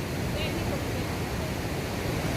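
Waterfall at Li Phi in Champasak, southern Laos, a constant loud roar of rushing water that fills the whole short stretch without a break.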